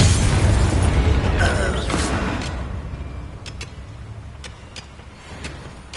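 A Confringo blasting spell going off in Hogwarts Legacy, with a loud, close burst and rumbling boom that fades over a couple of seconds, followed by several sharp ticks and small pops.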